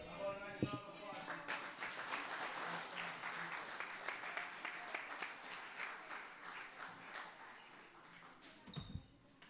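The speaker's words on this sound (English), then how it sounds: "How about a nice round of applause?" An audience at a town board of selectmen meeting gives a round of applause after a performance by a group of girls, sustained clapping that lasts several seconds before fading out.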